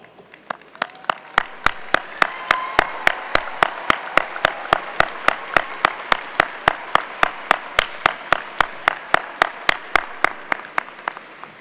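Sustained applause from a large graduation commencement crowd, with one nearby pair of hands clapping in a steady, even rhythm throughout.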